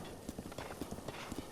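Horse hooves clip-clopping in Zelda Breath of the Wild, a quick, even run of soft hoof beats, fairly faint, steady in rhythm across a short stretch with no talk.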